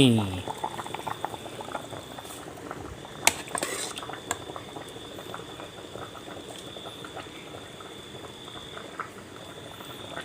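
Water bubbling at a steady rolling boil in a pot, with a few clinks of utensils and a faint tone running through, a voice briefly audible.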